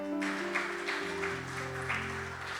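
A church congregation gives the Lord a strong round of applause, steady dense clapping under sustained keyboard chords.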